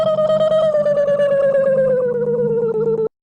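A human voice imitates the Arm from Twin Peaks: Fire Walk With Me, a warped, gargling, rapidly pulsing drone that slowly sinks in pitch for about three seconds, close and loud, then cuts off.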